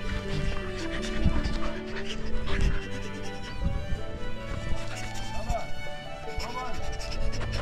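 Three huskies pant steadily and close by at Fairy Meadow, the base camp area below the Nanga Parbat range, with a loud rhythmic breathing texture continuing throughout under outdoor bustle.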